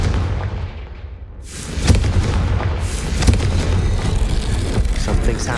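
Confringo explosion spell in the Hogwarts Legacy video game, a couple of loud booming blasts with sharp bursts over a rumbling low background, close and forceful.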